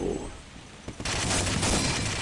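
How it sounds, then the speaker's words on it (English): An MG42 machine gun in the video game Day of Defeat opens up in a dense, continuous burst that starts abruptly midway and stays loud, preceded by a quieter stretch of game noise. "He's got a fucking MG42 in there."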